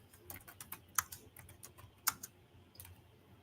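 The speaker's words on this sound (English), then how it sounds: "I was typing, y'all." Fingers type on a computer keyboard in irregular bursts of light clicks, with several sharper, louder keystrokes standing out against a quiet room and no speech.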